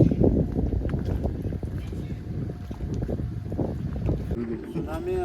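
Boat arriving on the sea along the Konkan coast: a low engine rumble mixed with wind buffeting and water noise, with people talking over it.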